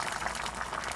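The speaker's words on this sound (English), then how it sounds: "we've got our pot of water boiling away nicely here" A pot of salted water at a steady rolling boil, a continuous close bubbling hiss without pause, with no talking.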